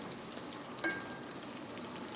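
Whole cloves and a little cinnamon stick fry in hot oil as a base for chicken meatball soup. A soft, steady sizzle runs throughout with a faint clink partway through.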